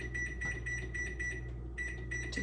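A kitchen timer being set while bread loaves go into the oven gives repeated electronic beeps in short bursts, with a pause near the middle, over steady kitchen hum.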